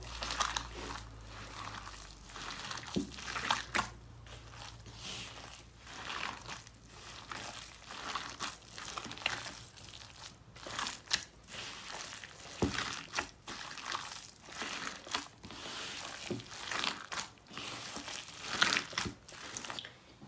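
Seekh kabab mince being worked together with yogurt and dry-roasted flour by hand, a steady run of soft wet squelching and crinkly mashing sounds, close and fairly quiet, with no talking.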